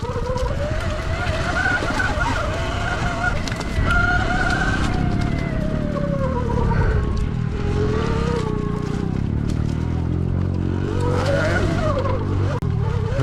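Pit bikes, including a Surron and a Kawasaki, rev and whine while riding down muddy, snowy trails, with engine pitch climbing and dropping repeatedly over a rough, noisy background, close to the microphone.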